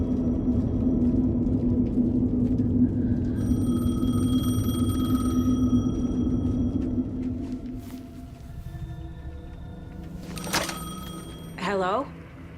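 A payphone rings in the video game Alan Wake, with bell-like tones rising above a heavy, steady low rumble of ambient drone before things quiet down.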